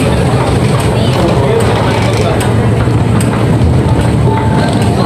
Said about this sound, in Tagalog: MRT na, MRT.